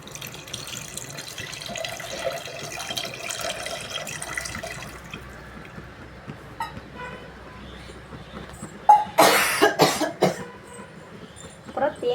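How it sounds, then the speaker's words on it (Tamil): Tamarind water poured into a fish curry (vanga meen kulambu) in a pan, a faint trickle and sizzle under a low voice, then a loud cough and a few clattering bursts near the end. "இப்போ புளி தண்ணி ஊற்றிங்க."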